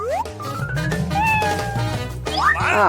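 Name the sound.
cat meowing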